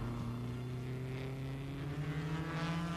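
Formula 1 race cars of 1957, among them a 1500cc Cooper Formula 2 car, roar around the German Grand Prix circuit with a continuous droning engine note, steady and fairly loud, with no talking.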